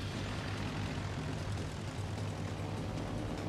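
Aircraft in the World of Warships video game drone past in a steady, dense propeller-engine roar, moderately loud and unbroken with no speech.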